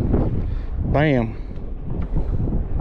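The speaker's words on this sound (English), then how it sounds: "So windy today." Steady wind buffets the microphone on a lake during crappie fishing from a boat at Badin Lake, a broad continuous rumble with a brief spoken exclamation over it.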